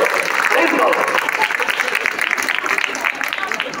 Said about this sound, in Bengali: আরে জোরে হাততালি হবে ওর জন্য।